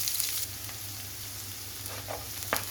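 Onion frying in tuna oil, a soft continuous sizzle and crackle in a pan with light stirring scrapes, faint and close, no talk.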